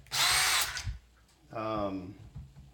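A power drill whirs in two short bursts, spinning screws out of a BAE ESS A123 battery module, with a pause between them, close and fairly loud.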